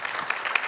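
Brief burst of audience applause at a business management session, scattered claps at moderate distance with no voices.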